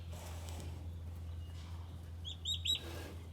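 Young turkey poults give a few brief, high chirps near the end, over a low steady hum in an indoor brooder.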